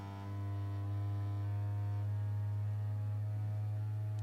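A Bambu Lab X1 Carbon 3D printer runs its vibration calibration, giving a loud, steady low droning hum that starts abruptly and holds with faint overtones, no talk over it.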